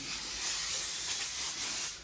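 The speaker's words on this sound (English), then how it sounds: "Give it a little spray and wipe it off with a rag, some paper towels." Brake cleaner sprayed onto Cadillac CTS-V brake parts, a steady close hiss of aerosol lasting about two seconds before tapering off.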